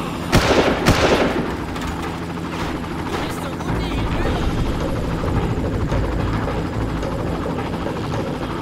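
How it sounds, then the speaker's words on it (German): Helicopter rotor drone in the video game Far Cry, continuous and loud, with a couple of sharp gunshot bursts near the start and someone talking over the action. "Ja, den Hubschrauber haben wir auch noch. Den sollten wir vielleicht einmal überballern."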